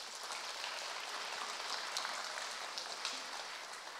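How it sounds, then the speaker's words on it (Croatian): An audience applauds at a ceremonial music school concert, a faint, even patter of many clapping hands that holds steady throughout. "Molim još jedan aplauz za ovaj autorski projekat."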